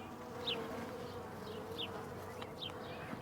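Honey bees buzz steadily around an open hive, a faint, continuous drone with occasional individual bees zipping close past.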